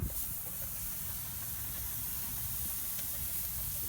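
Lamb chops seasoned with salt, pepper, garlic powder, parsley, sage, rosemary and thyme sizzle fat side down on a grill, a steady close hiss running unbroken throughout.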